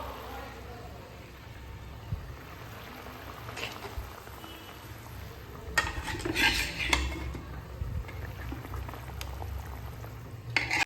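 Fish in a mustard curry simmering in a pot, a steady low bubbling with occasional clinks and stirring scrapes of utensils, fairly quiet and close, with no talk.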